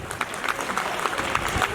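Audience applause fills a Hindi poetry gathering on patriotic and political verse, a steady dense patter of many hands clapping at moderate distance, with no voices over it.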